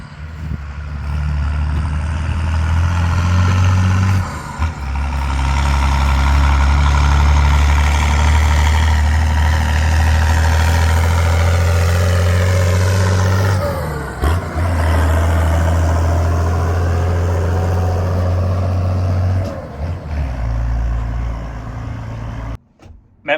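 A Maxim truck's engine idles and rumbles steadily close by, a deep low throb holding throughout with brief dips and a small rev change near the middle.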